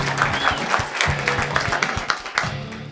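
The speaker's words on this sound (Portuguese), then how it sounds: "Uma salva de palmas para o Rodrigo." Audience at a Portuguese-language business event clapping for a presenter, dense rhythmic applause with individual sharp claps, a tonal hum and faint voices running underneath.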